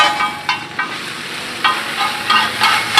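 Street-style fried rice is stir-fried with paneer manchurian in a wok at a Ranchi food stall, giving a loud, close sizzle broken by several quick scraping strokes of the ladle against the metal, with no voices.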